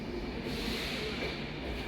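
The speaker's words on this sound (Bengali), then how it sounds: "এখন 3:47 আমাদের ট্রেন এসে পৌঁছলো ভুবনেশ্বরে" The Shalimar Puri Superfast Express sits at Bhubaneswar Junction station, a low, steady rumble of the train with faint rail noise, heard from inside a carriage at low level.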